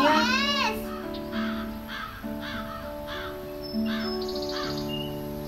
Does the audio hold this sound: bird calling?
yes